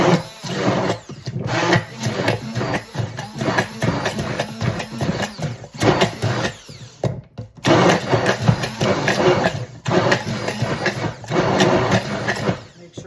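A blender purees canned cranberries with zest and juice into a sauce, whirring loudly and steadily in long bursts broken by a few brief pauses, with no talking.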